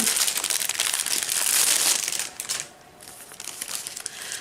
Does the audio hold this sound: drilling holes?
no